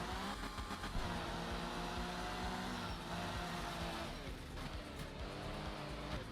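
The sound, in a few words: car engine and driving in a video game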